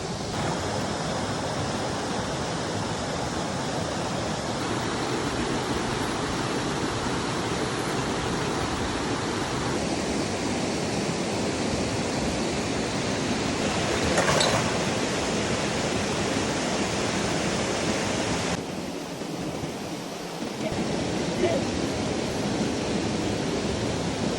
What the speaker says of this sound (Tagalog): simoy ng hangin, mga ibon, tunog ng batis, nakakaantok dyan.